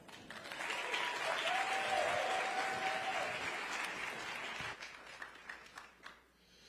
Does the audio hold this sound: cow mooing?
no